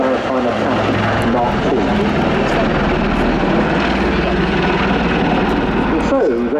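Royal Navy Leonardo Wildcat HMA.2 maritime attack helicopters flying at an air display, a steady loud rotor and turbine roar holding throughout, with a commentator talking over it.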